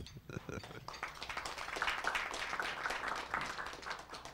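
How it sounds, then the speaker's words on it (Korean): An audience at a summit of junior college presidents gives a round of thanks, with crisp scattered handclaps building into steady moderate applause mixed with some murmuring. "저희가 스스로가 감사의 박수를 좀 올려주시기 바랍니다."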